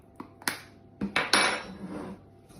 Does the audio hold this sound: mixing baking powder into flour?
yes